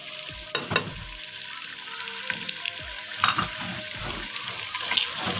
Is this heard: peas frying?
yes